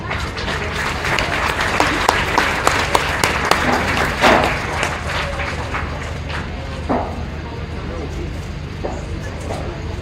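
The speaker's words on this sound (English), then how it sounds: "give those kids a round of applause" A crowd applauds at the Page County Fair market beef show, with steady clapping from the stands and a few louder nearby claps, while a voice talks over it.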